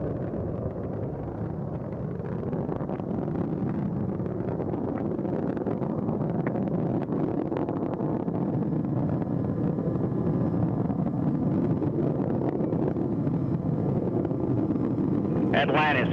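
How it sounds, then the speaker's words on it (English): Space Shuttle Atlantis main engines during launch make a continuous, heavy broadband roar that stays loud and steady throughout, with wind-like rumble and occasional radio voices. "Engines now revving up"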